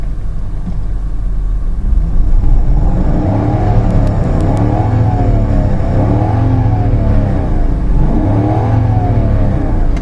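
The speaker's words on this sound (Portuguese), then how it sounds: "O motor está sendo acelerado, mas você não sente." A 1997 BMW 540i engine revved repeatedly, its smooth note rising and falling in several steady swells over a constant low idle hum, close and loud with no talking.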